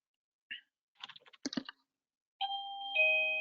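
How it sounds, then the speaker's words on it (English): A doorbell chimes in two clear electronic ding-dong tones after a few soft keyboard clicks, the sustained notes ringing out loud and close in a quiet room. "that's my doorbell"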